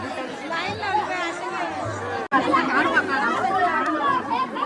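Dense crowd chatter fills the busy Trimbakeshwar temple grounds, with many overlapping voices close by and all around, broken by one brief instant of silence.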